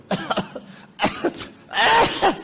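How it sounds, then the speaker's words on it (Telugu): A few short, harsh coughs in close succession, nearby, the last one longer and rougher than the first two. "పొడి దగ్గు వచ్చింది అనుకో"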